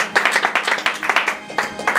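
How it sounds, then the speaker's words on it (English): Audience claps for an act at a family no-talent show, a brief, dense burst of hand clapping from a small crowd, fairly close and lively throughout. "Let's have a nice round of applause for Joe and Sean in The Perfect Present."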